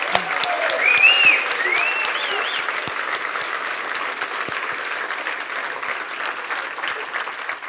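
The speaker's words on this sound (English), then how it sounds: "One more round of applause for all the winners." A crowd at a business awards ceremony claps steadily and continuously, dense applause filling the room with a few cheers near the start.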